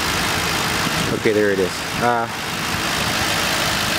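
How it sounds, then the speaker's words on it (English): A 2008 Ford Crown Victoria Police Interceptor V8 idles steadily up close with a smooth, quiet, constant hum under brief talking. "Extremely clean engine, very quiet, very smooth."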